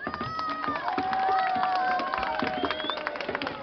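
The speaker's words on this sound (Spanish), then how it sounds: "¡El aplauso para la escuelita!" Rowdy crowd at a ranchero event, cheering, whistling and shouting over a dense bed of clapping that stays loud and steady throughout, with animated voices and yells mixed in.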